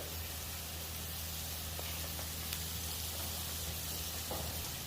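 Butter sizzles and hisses steadily in a hot pan while butter burgers are being made, giving a continuous soft frying crackle with a few faint taps.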